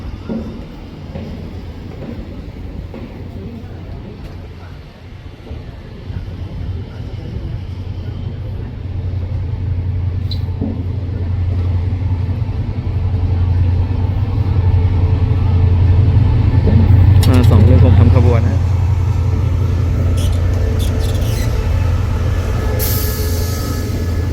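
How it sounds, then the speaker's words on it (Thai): Rapid train 171 rolls into Ban Pong station in Thailand with a low, rising rumble of wheels and carriages. Brief squeals and clanks come near the end, and faint voices are heard around it. "รถเร็ว171นะครับกำลังเข้าสถานีบ้านโป่ง"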